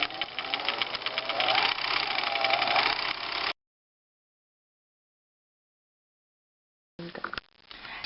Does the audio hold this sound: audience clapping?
no